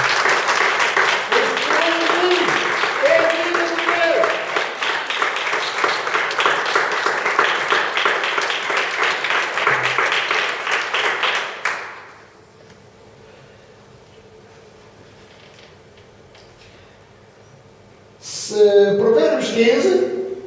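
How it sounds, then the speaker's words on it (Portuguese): A church congregation applauds during a sermon, a dense, loud wash of clapping that holds steady for about twelve seconds, then cuts to near silence before a voice starts speaking again. "Uma salva de palmas"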